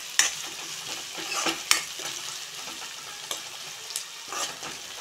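Onions frying in oil with half a teaspoon of rock salt, for a spring onion and egg curry, crackle and sizzle steadily and close by. Several sharp utensil clacks and stirring scrapes punctuate the sizzle.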